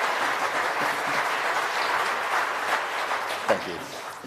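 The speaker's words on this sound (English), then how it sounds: "Please, a round of applause." Audience applause at a national architecture awards ceremony, steady moderate clapping from a sizable crowd with a voice faintly under it and one sharper clap standing out near the end.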